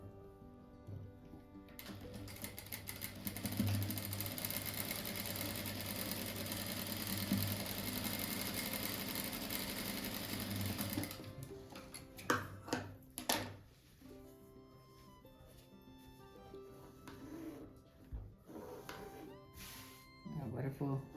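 A home sewing machine runs in a steady, busy whir for about ten seconds while stitching fabric strips together for a patchwork rug, then stops, leaving scattered handling clicks and light rustling.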